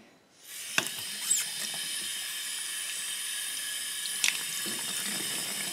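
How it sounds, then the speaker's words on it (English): Tap water gushes into a sink as a doll's hair is washed, a steady close hiss of running water that starts abruptly and continues with a few light knocks and splashes. "Now I'm just gonna wash her hair."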